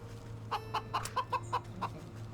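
A pheasant in the game Wytchwood gives a rapid run of about seven short, chicken-like clucks, evenly spaced and fairly clear over a low background hum.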